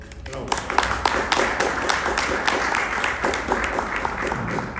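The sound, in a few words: audience applause at a book presentation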